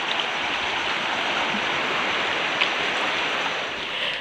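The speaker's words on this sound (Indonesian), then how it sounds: "Ini airnya lagi pasang" Tidal seawater flows in at high tide along a mangrove coast, a loud, unbroken rushing wash that stays close and constant with no voices.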